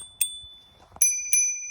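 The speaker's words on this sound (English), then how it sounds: "on these scooters they do have bells" An e-scooter's bell rings sharply three times, each ding bright and close with a short ringing tail, the strikes spaced unevenly apart.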